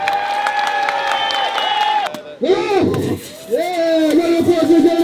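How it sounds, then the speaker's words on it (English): A crowd applauds and cheers for the Drift Pro Lights podium at a drift championship finale, with clapping and whoops under amplified announcer speech and ringing musical tones. "round of applause, ladies and gentlemen!"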